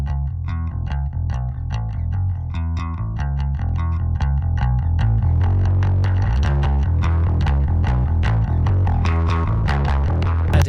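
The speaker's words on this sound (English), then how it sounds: "Adding this distortion" A bass guitar plays a steady run of notes with a gritty, saturated distortion, thick and buzzing throughout.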